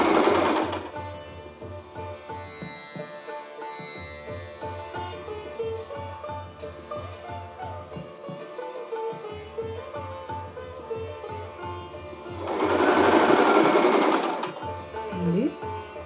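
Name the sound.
sewing machine stitching satin scrunchie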